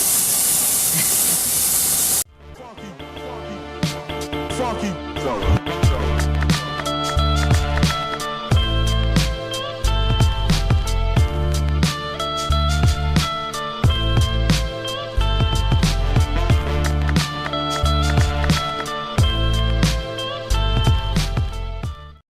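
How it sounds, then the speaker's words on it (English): Welding torch laying a basic puddle on metal: a steady, loud crackling hiss with dense irregular pops runs for about twenty seconds after a brief burst of noise at the start, with no voices. "That's where I like to weld at. Don't be afraid of the noise."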